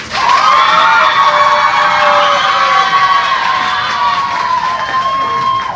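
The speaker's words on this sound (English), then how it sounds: "that crowd gets more and more enthusiastic" Loud crowd of youth football fans and children cheering and shouting continuously, a dense sustained roar with high excited voices that holds steady throughout.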